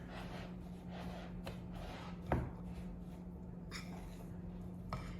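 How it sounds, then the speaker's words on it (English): Soft scraping and a few light taps as a fork presses butter into the crumbly topping of an apple cranberry crisp, close and quiet, with one sharper clink near the middle. "I take my fork and just kind of press that butter in"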